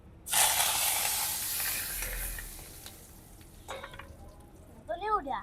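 Curry leaves dropped into hot oil for upma burst into a loud sizzle that slowly fades to a steady hiss, with a stirring clink and a voice near the end.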